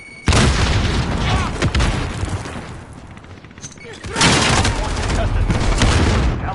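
A grenade goes off in a PS4 video game as a loud, booming blast with a long rumbling tail, followed a few seconds later by a second heavy explosion.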